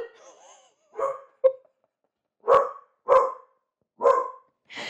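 Several sharp dog barks, loud and close, coming in short bursts with gaps between them, the first pair quick and the later ones more evenly spaced.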